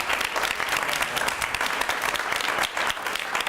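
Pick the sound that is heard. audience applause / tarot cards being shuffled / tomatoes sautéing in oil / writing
audience applause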